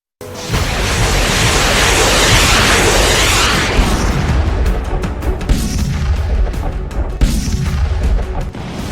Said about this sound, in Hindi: मिसाइलें और रॉकेट दनादन आग उगल रहे हैं।